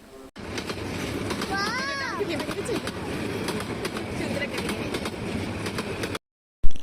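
A train rolls past with a steady rumbling clatter heard from nearby inside a CNG auto-rickshaw on the road, while a voice speaks briefly over it and a bird calls once.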